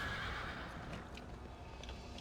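A horse in a video game neighs once, a loud, drawn-out whinny that fades out over about two seconds.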